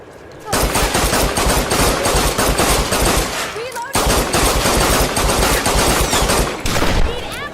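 Sustained rapid-fire gunfire from the Tomb Raider game on PS4 with a modded rapid-fire controller, a loud, dense, continuous burst that briefly breaks off and then resumes.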